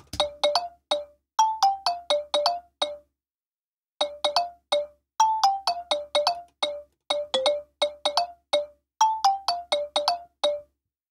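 Bright synth plucks play a quick repeating melodic pattern of short staccato notes, clean and alone, with a brief pause before the phrase repeats.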